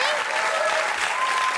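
Dense applause-like clapping performed as a ritual, a steady broadband wash of claps with no pauses, fairly loud and close, with a faint tonal whistle drifting through it.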